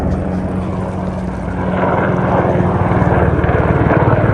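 A medical helicopter passes overhead, its rotor chop and engine roar growing louder and steadier over several seconds.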